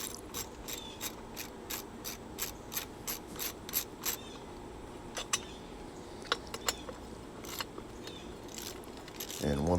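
A ratchet clicks in fast regular bursts while loosening the 8mm bolts on a pit bike's flywheel cover, followed by scattered metallic taps and clinks of tools and parts, close and moderately loud.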